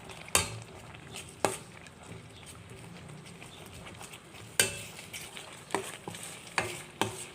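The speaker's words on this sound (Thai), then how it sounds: "ผัดให้หอม ก่อนเลยนะคะ" Curry paste for a southern Thai noodle curry is stir-fried in a pan, giving a soft ongoing sizzle broken by sharp scrapes and clinks of a utensil against the pan every second or so, close up and without speech.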